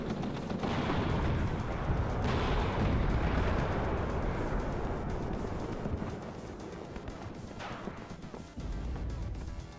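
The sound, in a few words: gunfire in WARNO video game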